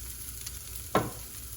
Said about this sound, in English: now we're going to put in some stock and have it simmer